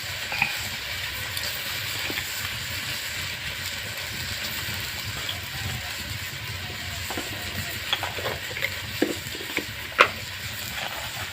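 Potato with chopped green chilli and ginger fries in a pan, a steady soft sizzle and hiss close by with a few stirring clicks, no voices over it.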